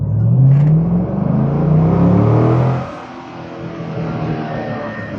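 A C5/C6 Corvette V8, fitted with sway bars and showing 80,000 miles, makes a loud, close engine roll-on from low revs. A rising harmonic drone lasts about three seconds, then drops to a steadier rumble.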